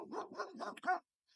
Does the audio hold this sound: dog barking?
yes